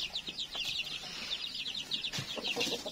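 Black backyard chickens, about eight hens with chicks nearby, clucking in a steady chatter of short repeated calls from close by, with soft rustling underneath and no talk.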